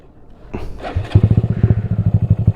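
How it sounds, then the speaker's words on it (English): An underpowered motorcycle stalls on a hill: a few soft knocks, then a close, loud engine chugging in rapid, uneven thumping pulses that lug and falter. "And the reason why I keep stalling is I am on a hill"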